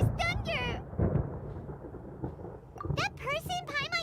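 Low rumbling thunder from a storm in the video game Genshin Impact, swelling in a deep roll near the middle and rising again toward the end, with high-pitched in-game voices and chirping tones layered over the rumble.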